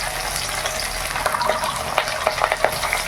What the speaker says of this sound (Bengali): তেল গরম হয়ে গেছে মাছগুলো ভেজে নেই